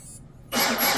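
Brushless motor of a Tenshock F1 RC racing boat, silent at first and then snapping into a loud, steady high-pitched whine with a wavering tone, close and alone.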